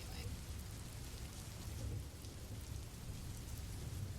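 Steady, dense rain falling outside with a low rumbling of thunder underneath, continuous and fairly quiet throughout.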